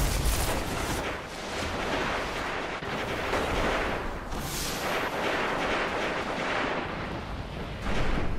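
A mining grenade explodes during an Iron Banner match in Destiny, producing dense, rumbling blast noise that fills the whole stretch at a fairly low level, with no talking.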